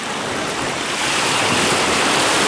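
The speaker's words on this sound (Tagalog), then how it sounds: "Lakas talaga ng alon" Strong ocean waves at Ternate beach in Cavite crash and wash in a dense, loud, broadband roar that swells slightly midway and continues without pause.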